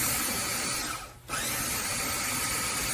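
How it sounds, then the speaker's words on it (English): A KitchenAid food processor grinds cookies into crumbs for a lemon raspberry cheesecake crust, a loud steady motor whir with a brief dip where it pauses for a moment before running on. "And it processes our cookies."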